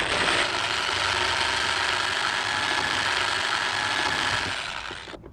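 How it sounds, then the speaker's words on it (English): A drill bores holes for nut plates during a helicopter build. It gives a continuous, close, loud whirring grind for about five seconds before it winds down. "So, a bit of drilling required."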